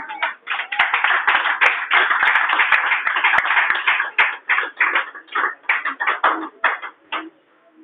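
Congregation clapping at a church service, a rapid run of hand claps in uneven bursts that thin out and stop near the end, close and loud with a faint murmur underneath.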